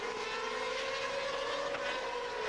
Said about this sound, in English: That distinctive 8-into-1 exhaust system gives these cars that interesting note.